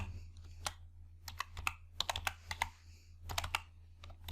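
Computer keyboard typing while entering an Excel formula, quick irregular bursts of close key clicks over a low hum, with no talking.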